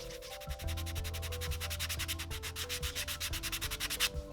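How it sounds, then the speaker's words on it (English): Rapid back-and-forth scraping of sandpaper on a 3D-pen-drawn ABS plastic model wing, the rhythmic strokes speeding up and growing more regular, close and steady without any talking. "I'm just gonna kind of work on this and just keep sanding away"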